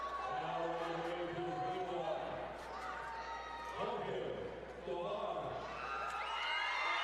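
Hometown crowd roaring and cheering as a boxer makes his entrance at a fight night, sustained dense shouting and whoops with a commentator talking over it.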